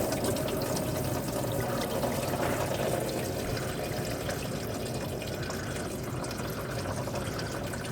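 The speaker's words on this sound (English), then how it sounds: "you'll see our antifreeze is starting to come out" Antifreeze draining from an engine's thermostat housing as it is removed, a steady pouring, splashing flow of liquid that runs continuously and fairly loud throughout, with no speech over it.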